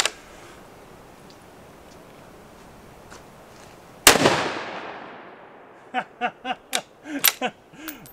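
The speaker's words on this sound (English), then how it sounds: "This is such a fun gun to shoot." A .204 Ruger rifle fires once at a target: a single loud, sharp crack with a lingering outdoor echo, preceded by quiet background and followed by a burst of excited voices.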